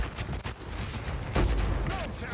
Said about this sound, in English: we have explosion everywhere